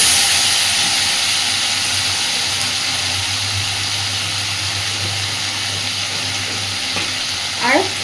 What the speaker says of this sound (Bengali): এই পর্যায়ে গ্যাসের ফ্লেমটাকে একদম কমিয়ে রেখেই আদা বাটাটাকে দেবো